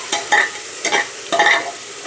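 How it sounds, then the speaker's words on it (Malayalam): Crushed small onions (shallots) sauté in a cooker and are stirred in three distinct scraping bursts over a faint sizzle, close up and loud. No one speaks. "10 ചെറിയുള്ളി നന്നായിട്ടൊന്ന് വഴറ്റുക."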